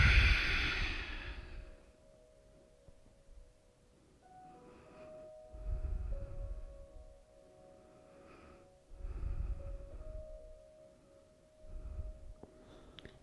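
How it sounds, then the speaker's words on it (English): Slow, deep breaths drawn in and let out during a tai chi warm-up stretch, each swell rising and fading in an unhurried cycle roughly every three seconds, close and soft with a faint tone lingering underneath. "Breathe in, lift. Breathe out and twist."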